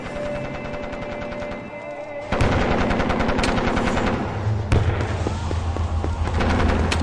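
Rapid bursts of automatic gunfire crackle loudly and continuously in a dramatized battle scene, with sharp individual shots and dense machine-gun volleys layered over a roaring background, no voices present.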